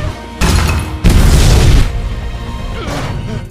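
A missile strikes a building in a film, setting off a large explosion: a burst of booming crashes and rumbling debris, loud and close, with a second impact and lingering rumble after.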